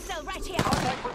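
Gunfire in a first-person shooter video game, in a shotgun firefight near a cliff, with sharp shots bursting around the midpoint and again at the end beneath ongoing game sounds and faint talk.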